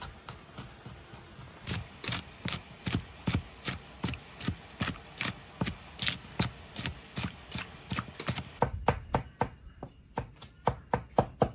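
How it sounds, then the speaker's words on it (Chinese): Garlic and small chilies chopped with a cleaver on a board, a steady rhythmic series of sharp knocks, roughly two per second, close and clear with no talking. "把大蒜辣椒剁一点，"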